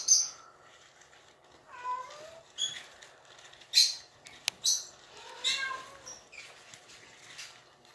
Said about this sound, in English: My kitty's mad.